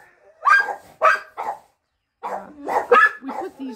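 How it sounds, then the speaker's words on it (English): A pet dog barks in a home garden, giving several sharp barks in two bursts separated by a short pause, loud and close. "This is our dog."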